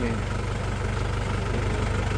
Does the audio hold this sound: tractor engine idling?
yes